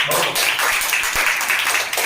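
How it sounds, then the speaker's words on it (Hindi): Schoolchildren in a classroom clap together in a dense, steady patter of many small hands, fairly loud and close, lasting about two seconds with faint voices underneath. "ताली बजाओ सब।"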